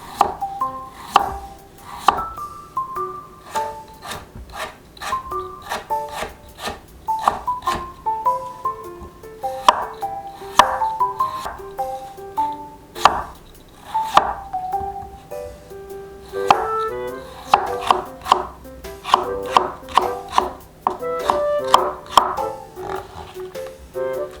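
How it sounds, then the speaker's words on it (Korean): A knife julienning potatoes on a cutting board gives rapid, sharp, evenly spaced chops in bursts, loud and close, with no voices. "감자를 채 썰어 주세요."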